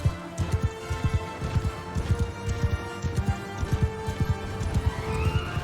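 Rapid, rhythmic hoofbeats of a galloping horse in the video game Mount and Blade Bannerlord pound close and loud, with a neigh and musical tones layered over the steady pounding.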